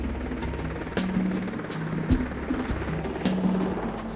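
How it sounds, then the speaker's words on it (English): Marine One, the presidential helicopter, landing on the White House South Lawn; a steady low rotor and engine drone sits at a distance with a faint periodic thump and no talk over it. "Marine One is the helicopter that has the president on board and lands on the south lawn of the White House"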